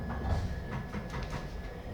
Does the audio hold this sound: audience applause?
no